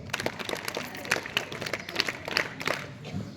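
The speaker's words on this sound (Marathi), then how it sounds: "याच्यासाठी अजून एकदा टाळ्या झाल्याच पाहिजे." Audience applause at a school Shivaji Maharaj Jayanti celebration, a steady wash of many hands clapping at moderate level, with a few sharper claps standing out and faint crowd noise mixed in.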